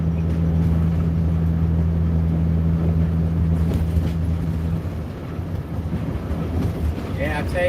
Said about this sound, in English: Hear the humming of the engine.